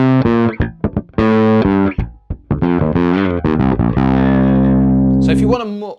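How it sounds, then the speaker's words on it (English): Bass guitar run through an Aguilar preamp pedal with its gain overdriven into distortion, playing a loud, gritty riff of short punchy notes that ends in a long sustained note and a brief squealing slide, close and alone. "it has this adaptive gain circuitry, which is essentially a distorted sound where they overdrive the preamp."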